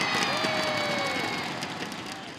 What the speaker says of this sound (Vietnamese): Xin một tràng vỗ tay thật lớn hơn nữa để chào đón trên sân khấu MC Xuân Bắc.